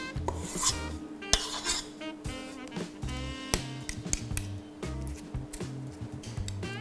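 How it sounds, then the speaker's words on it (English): Metal spoons scoop chai latte cupcake batter into lined cupcake cases in a tin, making repeated soft scrapes, clinks and wet squelches, close and steady, with no talk. "So once your batter's ready, you just need to scoop it out into your cupcake cases."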